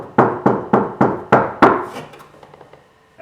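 Hand knocks on an MK3 Supra door panel after sound deadening: six dull, close thunks in a steady rhythm, with a little ring trailing off after the last.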